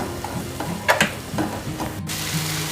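Chole masala with spices and chopped methi leaves stirred in a pan, soft sizzling under a few scraping spoon strokes and light clinks, close and fairly quiet.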